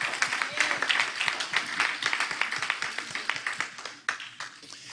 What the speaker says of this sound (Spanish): escuche el aplauso